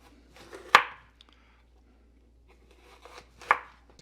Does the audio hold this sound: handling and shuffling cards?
no